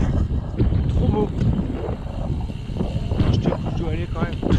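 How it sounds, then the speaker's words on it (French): Steady wind roars and buffets across the microphone of a loaded touring bicycle on the Vélodyssée coastal route, a gusty crosswind. The broadband rush holds for the whole stretch while a voice talks over it. "Toujours ce vent là."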